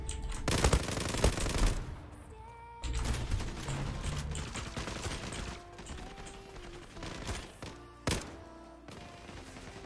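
M468 rifle fire in the online shooter Zula, rapid bursts of sharp gunshots in short volleys separated by brief pauses, loud and close with clicks and thuds between.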